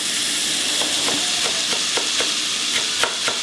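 Continuous loud sizzling of food frying in a pan for Armenian stuffed cabbage, with occasional light clinks and scrapes of stirring.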